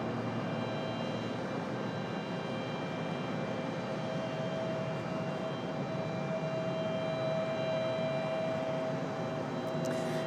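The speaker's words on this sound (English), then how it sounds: "Got the pushback of a CRJ over here. That's what you guys are hearing currently." A CRJ regional jet being pushed back at Raleigh-Durham airport gives off a steady, broad engine roar with a faint high whine, continuous and moderately distant, with no talk.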